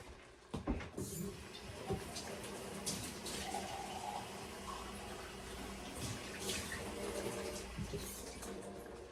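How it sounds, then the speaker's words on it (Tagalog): Water poured from a tap into a cooking pot, a continuous rushing, splashing fill that starts with a few knocks and runs steadily throughout at close range. "So mga kababayan, lagyan natin ng tubig."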